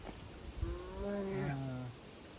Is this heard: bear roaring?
yes